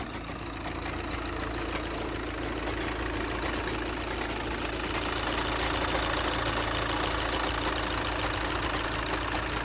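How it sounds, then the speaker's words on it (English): A car engine with a failing turbo runs continuously with a steady knocking rattle over a low idling drone, close and fairly loud throughout. "hearing this knocking sound from the engine"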